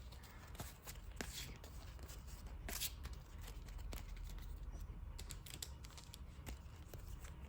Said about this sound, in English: Get a shuffle there, and then look, take a couple off the top, put them on the bottom.